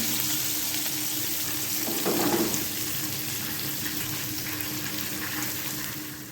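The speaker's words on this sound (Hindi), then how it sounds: "अब हम इसे बघार लगा देंगे।" Hot oil sizzles loudly as a tempering of cumin seeds and green chillies is poured over Punjabi-style pakora karhi, a dense crackling hiss throughout with a brief louder burst near the middle, with no talking.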